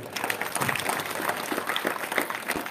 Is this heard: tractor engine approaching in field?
no